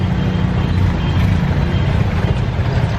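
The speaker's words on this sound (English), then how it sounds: "jam, traffic jam." Dense road traffic hums in a jam on a rainy evening, with trucks and buses idling and rumbling in a steady, loud low drone that stays constant throughout, with no clear voices.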